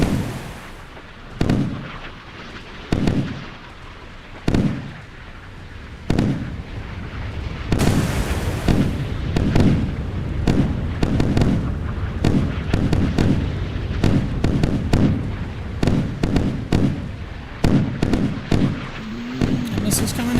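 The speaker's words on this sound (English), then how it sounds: "Missiles coming at it." Naval combat in the video game Sea Power, set in the Taiwan Strait, with repeated sharp missile launches and explosions booming at irregular intervals over a continuous low rumble, while a voice talks throughout.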